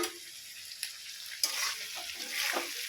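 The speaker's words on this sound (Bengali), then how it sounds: "খুন্তি দিয়ে খুব সুন্দর করে নেড়ে চেড়ে আমি চিংড়ি মাছগুলো ভেজে নিলাম" Shrimp frying in a pan and stirred with a spatula, a steady close sizzle with soft scraping and occasional louder hissing swells as the pieces are turned, no voices.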